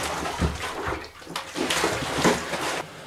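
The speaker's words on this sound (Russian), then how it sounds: "Сейчас я начинаю его переливать в бродильную емкость." Cooled homemade English-style IPA beer wort is poured into a fermenting vessel, a steady, loud splashing and sloshing stream of liquid up close that continues for several seconds before easing at the end.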